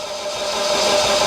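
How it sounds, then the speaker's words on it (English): An MG TF engine turns over on the starter while its injectors are fired, giving a brief, steady mechanical whirr and hiss close by, with no talking. "tentatively turn the engine over, fire the injectors and see what happens."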